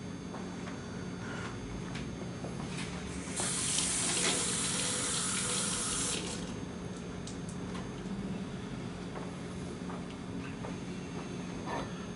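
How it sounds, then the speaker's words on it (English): Water runs steadily from a sink faucet onto a wet surface, a continuous close hiss that grows louder for a few seconds in the middle, with no voices. "I'm going to go over to the sink behind me and just get it wet with water"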